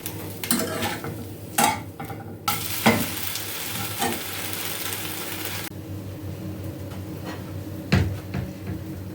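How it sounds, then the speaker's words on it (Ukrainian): Steady frying sizzle of kefir pancakes in a hot pan, with occasional clinks and scrapes of utensils and cookware over it. "Продовжую смажити млинці."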